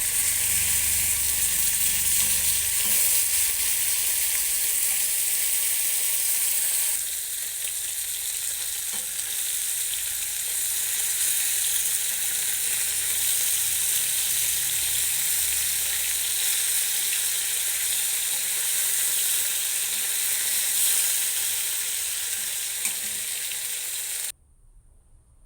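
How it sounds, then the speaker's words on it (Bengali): Fish fries in hot oil with a steady, bright sizzle that runs for nearly the whole stretch, close and even in level. Faint stirring is heard, and the sound cuts off abruptly near the end. "নেড়ে মাছ ভাজা হচ্ছে"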